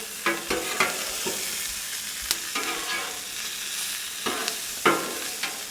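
Onions and peppers sizzle on a hot Blackstone flat-top griddle, a steady broadband hiss broken by sharp scraping clicks of a spatula stirring and packing them down.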